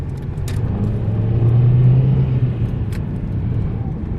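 Daewoo Lanos car pulling onto the highway, heard from inside: a steady engine rumble and road noise with a brief rising tone as it accelerates, continuous and without talk.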